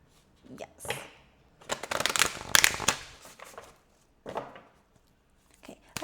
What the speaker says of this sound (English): Allow me to shuffle first.